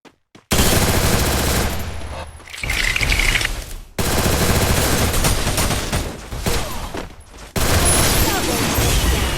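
MP40 submachine gun fire in the Free Fire mobile game: loud, dense, sustained automatic bursts filling most of the stretch, separated by brief pauses, with game effects mixed in.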